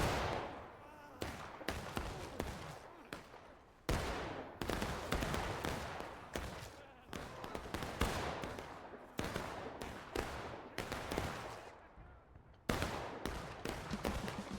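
Musket volleys crack out in a historical battle video game, with dense bursts of close and distant gunfire in irregular clusters, as a voice calls out orders over the shooting.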